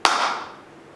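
A single sharp hand clap, close and loud, with a short ringing decay in a room during a relaxation training session.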